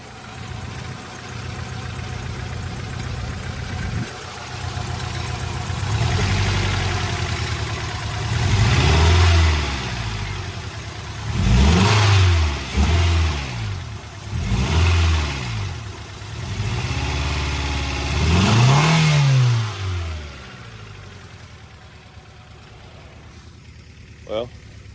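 A Honda CR-V's idling engine runs rough with a hard misfire, revved several times in uneven bursts that stumble and sputter, a close, choppy miss between quieter idle stretches.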